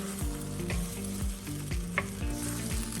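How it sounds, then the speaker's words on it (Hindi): Sauce poured into a chicken stir fry with vegetables sizzling in a hot pan, a loud, continuous fry with rhythmic stirring scrapes under steady background music, no speech. "इसी स्टेज पे हमने जो सॉस बनाया था ना वो डाल देते हैं"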